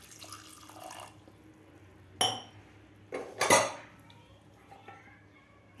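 A steel pressure cooker is closed with its lid, heard as a few loud metallic clanks and scrapes, near and sharp, separated by quiet stretches over a faint hum.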